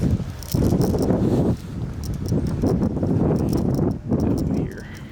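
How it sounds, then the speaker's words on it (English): Strong wind gusts outdoors beside a parked Scat Pack, rushing and buffeting the microphone in heavy, steady waves with brief lulls. It is loud and close, with no clear speech. "this windy as fuck"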